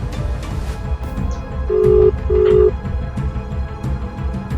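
Two short, steady phone tones sound back to back over a noisy, rumbling background, like a call ringing and then being cut off.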